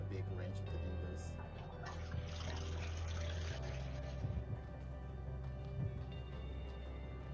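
Someone urinating into a toilet, a steady trickling pour heard faintly over a voice call, with a steady low hum underneath and a toilet flush following.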